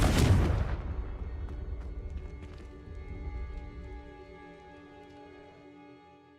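A Confringo spell blast in the video game Hogwarts Legacy, a loud booming explosion at the start that fades into a lingering rumble with scattered debris clatter and a low tonal game score.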